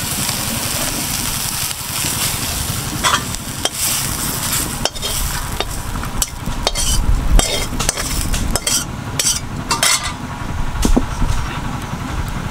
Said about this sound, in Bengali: সয়াবিন বড়িটা ভাজা হয়ে গেছে, এখন আমি উঠাই নেব।